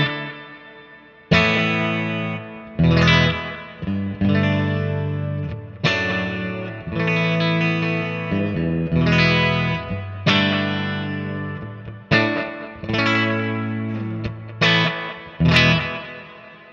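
Heavily distorted electric guitar through several Boss Metal Zone pedals plays chunky chords and riffs, loud and close, with a light touch of reverb trailing off the notes.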